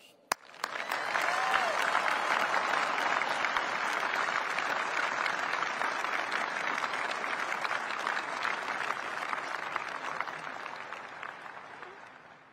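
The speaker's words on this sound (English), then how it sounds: "So let's give the entire workforce a round of applause." A large crowd applauds the workforce at the B21 Raider stealth bomber unveiling, a dense, steady roar of clapping that starts abruptly and holds at full strength for about twelve seconds with no talk over it.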